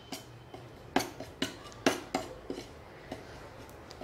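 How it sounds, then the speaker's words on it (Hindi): Turmeric dry-roasting slowly in a pan, a spoon scraping and tapping against the metal in a loose rhythm of about a dozen soft clinks, close and quiet with no talk. "इसे हमें धीरे धीरे भूनना है जब तक के ये थोड़ा सा रंग चेंज होके रेडिश ना हो जाए"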